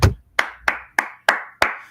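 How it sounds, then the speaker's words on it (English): Six sharp hand claps, close and fairly loud, spaced roughly a third of a second apart in an even rhythm, with a little low rumble before the first clap and no talking. "let me applaud that, right?"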